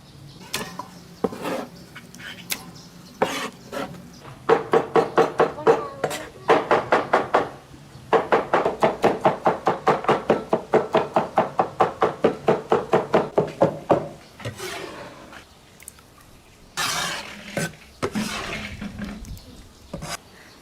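A knife chopping eggplant skins on a board, coming in fast, even runs of crisp knocks with short pauses between bursts, close and fairly loud.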